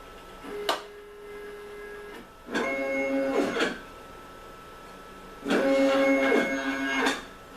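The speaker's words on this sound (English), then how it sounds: "The syringe pump is now dispensing solvent into vial 2." Automated viscometer's syringe pump dispensing solvent into a vial: a short whining motor tone, then two longer mechanical whirring runs with steady tonal hum and clicks at start and stop, close and alone.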